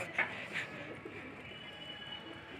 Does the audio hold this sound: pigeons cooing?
yes